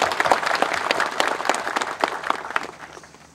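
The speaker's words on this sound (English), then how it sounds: "shall we all give a round of applause to our outgoing Rengma Salhuzi team" A crowd applauding steadily for a few seconds, dense overlapping claps that thin out slightly toward the end.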